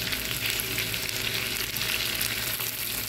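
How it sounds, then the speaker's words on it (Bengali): Chopped eggs fry with browned onion and garlic in a pan, giving a close, continuous sizzle and crackle throughout with no voices. "ডিমটা একটু পেঁয়াজের সাথে ভালো করে ভেজে নিব"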